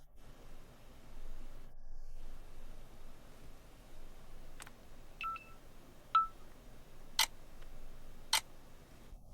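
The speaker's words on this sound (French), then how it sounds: "quand tu appuies sur le bouton de volume, ça lance automatiquement un compte à rebours de quelques secondes" A Xiaomi Leica Leitzphone camera self-timer counts down with a few sparse, short electronic beeps and clicks spaced about a second apart, faint against a low steady hiss.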